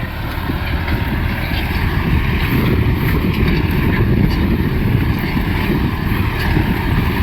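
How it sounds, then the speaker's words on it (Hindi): An Arjun 4x4 CRDI tractor pulling a 17-inch plough through a field, a loud continuous low engine drone and rumble with steady wind buffeting, no talk. "बाकी अभी काफ़ी अच्छे से इसमें प्लाऊ चल रहा है अपना"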